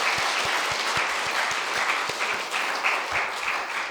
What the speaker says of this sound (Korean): 우리 함께 하나님께 감사의 박수 드리겠습니다.